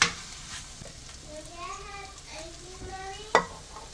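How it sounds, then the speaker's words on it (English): Shrimp fried rice sizzles in a pan as soy sauce is added and stirred in, soft frying hiss with scraping strokes and a sharp clack near the end, while voices murmur. "I'm just going to be adding my soy sauce gradually as I mix it in"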